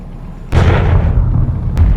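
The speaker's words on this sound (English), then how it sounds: "The deathly rumble of cannon fire erupted below, and a salvo of enormous harpoons came barreling towards the Prima Vista." Sharp cannon blasts from an audiobook battle scene, as ship cannons fire a salvo of huge harpoons: a heavy boom with a long rumbling tail, then a second sharp crack near the end, loud and close.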